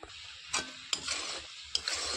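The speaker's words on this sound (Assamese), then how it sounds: "15 মিনিট লাৰিয়ে দিলোঁ, আৰু বা কিমান সময় লাৰিব লাগিব।" A thick cashew pera mixture is stirred in a pan, with a few rhythmic scraping strokes over a soft, low sizzle, close and unaccompanied by talk.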